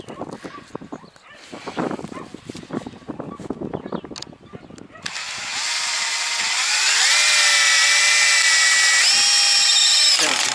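A power drill drives long self-drilling sheet-metal screws while building a wooden cold frame for vegetables, first with scattered knocking and handling, then a loud steady whine whose pitch shifts as the screw bites.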